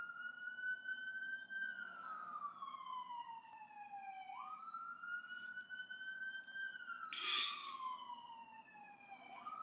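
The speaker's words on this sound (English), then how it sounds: "Sorry, guys, if you can hear the ambulance." An ambulance siren passing outside, a distant wailing tone slowly rising and falling over a low background hum, faint and steady throughout, with a brief louder noise near the end.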